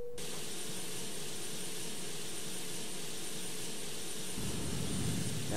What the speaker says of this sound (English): Now the APU is running here.